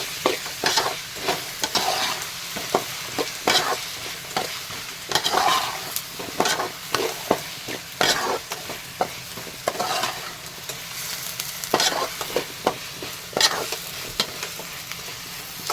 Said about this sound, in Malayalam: ഇത് നന്നായിട്ട് ഇളക്കി ആയിരിക്കും.